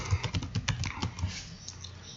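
Fingers type on a computer keyboard to search for forms, a close, quick run of soft key taps that slows and trails off after about a second and a half.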